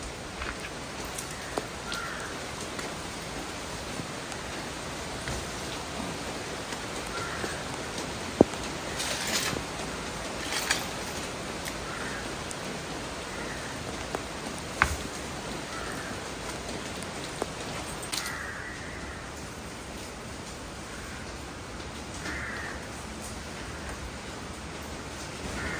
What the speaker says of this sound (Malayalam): മഴ പെയ്യുന്നുണ്ട് കേട്ടോ.